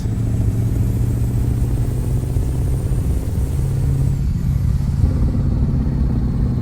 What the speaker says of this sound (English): That's why I love the E9 engine.